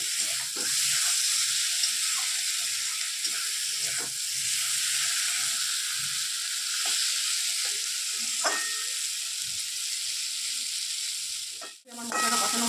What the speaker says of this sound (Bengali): আলু আর মশলাটা একবারে আমি কষিয়ে নিলাম।